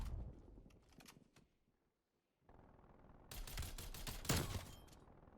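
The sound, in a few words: DMR 14 rifle gunfire in video game Call of Duty: Cold War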